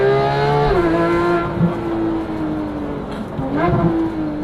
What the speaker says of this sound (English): I cannot get over how good this car sounds.